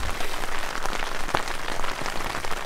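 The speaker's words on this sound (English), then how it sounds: "It's supposed to rain off and on all day." Rain falls steadily during a camping trip with a Toyota Tacoma overlanding rig, a dense patter of drops on surfaces nearby, with one sharper drip or tap standing out.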